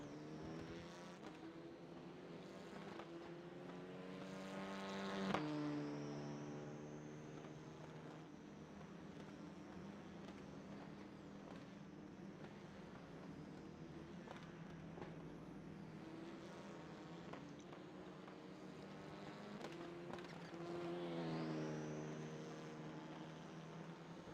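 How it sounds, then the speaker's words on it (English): Renault Clio Cup race cars rolling onto the Hungaroring circuit in the iRacing simulator, their engines a faint, steady drone with two rising revs that swell briefly before settling. "As most of the cars are starting to hit the track."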